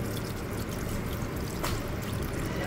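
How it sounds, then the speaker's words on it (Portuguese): Water drains out of the fuel filter of a Toyota Hilux 2.8, a continuous splashing, trickling hiss. It stays steady and fairly close throughout, with no pause. "Derrama pra gente ver. É bastante água, hein? Olha lá, vai vir água aqui agora."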